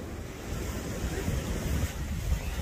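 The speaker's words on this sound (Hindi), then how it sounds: "ये चंद्रा नदी दिखा दूं मैं आपको" The icy Chandra river in Lahaul Spiti rushes past carrying chunks of snow and ice, a steady, loud roar of turbulent water mixed with wind buffeting the microphone, with no talking.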